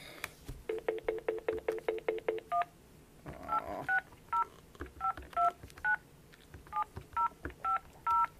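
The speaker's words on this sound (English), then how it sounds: "I'm going to make a phone call." Telephone keypad tones sound as a number is dialed: a quick even run of about a dozen beeps, a short pause, then a further series of separate beeps at varied pitches, clear and fairly quiet.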